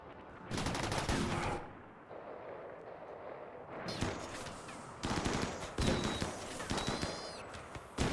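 Bursts of gunfire from the video game RimWorld Odyssey, several rattling volleys separated by short quieter gaps, fairly distant and moderately loud, with no voices.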